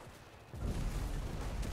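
A single heavy shotgun blast from a Winchester 1912 trench gun in the game Enlisted, a sudden loud boom followed by a rumbling tail that fills the rest of the moment.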